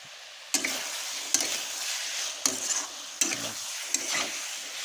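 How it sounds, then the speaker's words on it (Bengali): Ghee stirred into a vegetarian cauliflower curry in a pan, giving a low sizzle broken by several distinct scraping stir strokes, close-up, with no voices. "দেখুন সবশেষে ঘি দিয়ে দেওয়া হচ্ছে।"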